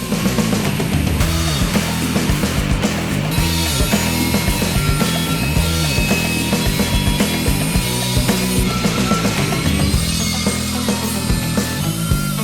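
A grinder runs continuously with a harsh, clattering mechanical grind and ratcheting scrape, loud and close, just before it breaks.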